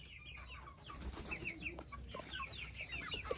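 Local chickens and chicks on a poultry farm, with soft clucking and high peeping chirps scattered throughout at close range, no talk.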